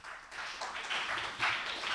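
A studio audience at a televised presenter competition final applauds, a soft, steady wash of many hands clapping at a moderate distance, brief and fairly quiet.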